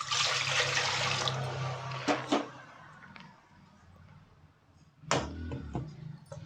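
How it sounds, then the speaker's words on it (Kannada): Water poured into a pressure cooker vessel in a home kitchen: a rushing splash for about a second, then a few sharp clanks of the vessel and a quieter second splash, with no talking. "ಇವಾಗ ಒಂದು ಕುಕ್ಕರ್ ಪಾತ್ರ ಇಟ್ಕೊಂಡಿದ್ದೀನಿ. ಇದಕ್ಕೆ ನಾನು ಇವಾಗ ಸ್ವಲ್ಪ ನೀರು ಹಾಕ್ತಾ ಇದ್ದೀನಿ."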